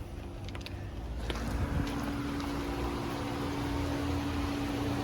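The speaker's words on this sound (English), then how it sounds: "I got the car running" A car engine idles steadily, a low continuous hum with a faint tonal whine, some distance from the recorder amid background hiss and a few light clicks, no voices.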